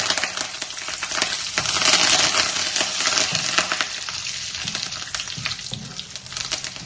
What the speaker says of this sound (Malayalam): ഇപ്പൊ കടുകും വറുത്തിട്ടുണ്ട്. ഉഴുന്നുപരിപ്പിന്റെ നല്ല ചുമന്ന കളറായിട്ട് വാസന വന്നിട്ടുണ്ട്.